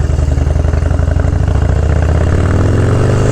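A 2001 Harley-Davidson Dyna FXDX with an 88-inch engine runs loud and close. Its steady, throbbing rumble climbs in pitch toward the end as the bike pulls away.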